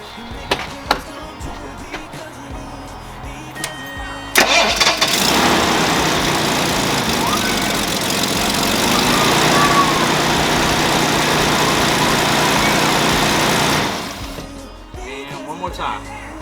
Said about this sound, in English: test it, see how easy the engine starts